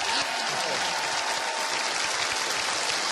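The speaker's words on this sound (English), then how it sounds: "give him a round of applause" Studio audience on a televised dating show breaks into steady, sustained applause, dense and fairly loud throughout with no talking over it.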